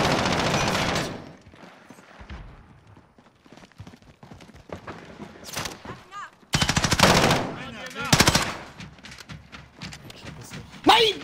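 Loud machine gun bursts and gunfire in a video game firefight, with rapid rattling volleys that cut in and out alongside heavy game noise and players talking over the action.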